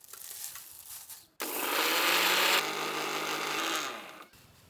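A mixer grinder whirring as it grinds a handful of roasted curry leaves, starting abruptly with a loud steady buzzing roar for about three seconds before cutting off.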